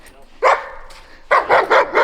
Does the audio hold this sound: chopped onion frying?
no